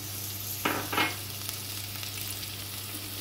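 Carrots and beans stir-fry with onions in a pan, sizzling steadily and quietly beneath two quick scraping strokes of a spatula early on.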